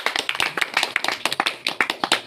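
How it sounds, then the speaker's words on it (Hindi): An audience at a celebration event claps for an honored guest, with distinct, fairly close individual hand claps in a quick uneven rhythm rather than a full roar. "एक बार जबरदस्त तालियां।"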